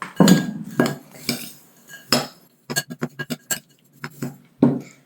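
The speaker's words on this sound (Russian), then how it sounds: "Смешиваем крекеры с шоколадом" Crushed crackers and chopped chocolate are mixed in a bowl, with a spoon knocking and clinking against the dish in uneven strokes and a quick run of taps, close and distinct with short silences between, no voices.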